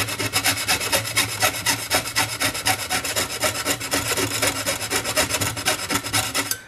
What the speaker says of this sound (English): And I'll saw up here.